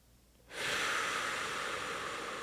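A slow yoga exhale through the nose, a sudden soft airy rush that starts after a quiet moment and holds steadily, close to the microphone, with no talking.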